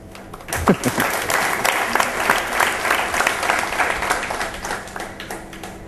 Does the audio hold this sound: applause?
yes